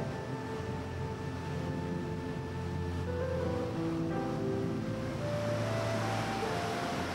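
Waves roll in along the Jeju shoreline in a continuous broadband wash at moderate distance, mixed with wind and faint tonal hum, with no voices present.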